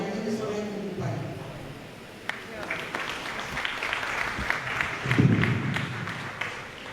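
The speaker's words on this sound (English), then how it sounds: "Let's applaud one more time." A conference audience at a Sierra Leone parliament and civic society partnership event breaks into steady applause that builds after a short spoken phrase, with some voices continuing over the clapping.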